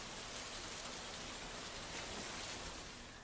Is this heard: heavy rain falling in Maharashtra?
yes